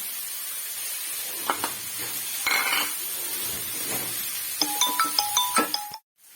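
Jackfruit seeds and spinach being stirred for a thoran with ground coconut paste, a faint steady sizzle under a few soft scrapes and a quick run of ringing metal clinks from the spoon against the pan near the end.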